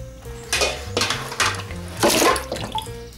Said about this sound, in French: Je vais y ajouter les os.